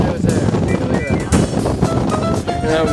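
Strong wind blows across an exposed mountain summit, gusting and buffeting the microphone in rough bursts, with people talking close by over it.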